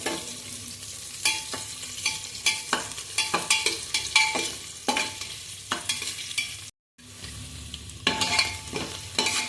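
Onions frying in oil for tomato rice, cooked until golden brown: a steady close sizzle broken by repeated scraping stirs, with a brief dropout near the end before the frying resumes.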